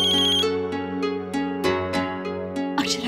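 A phone ringtone plays loudly and steadily in a domestic TV-drama scene, its electronic melody repeating in regular pulses over a sustained musical tone.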